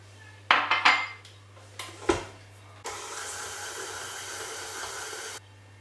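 Butter and caster sugar for sprinkle cupcakes are worked in a bowl: a few clinks and knocks first, then an electric mixer whirs in a steady, close hum for several seconds before cutting off.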